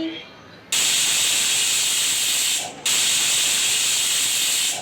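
Loud, steady hiss of steam blasting out of a pressure cooker whistle while cooking chicken curry, briefly dropping off near the three-second mark before surging back at full strength.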